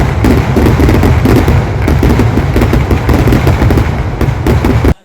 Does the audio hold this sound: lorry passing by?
no